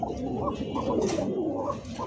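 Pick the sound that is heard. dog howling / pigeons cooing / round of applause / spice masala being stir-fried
pigeons cooing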